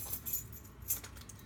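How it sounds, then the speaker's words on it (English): A bunch of construction core keys jangles in a locksmith's kit, a loose metallic clinking that rises in two brief bursts at moderate loudness with no talking. "some construction core keys"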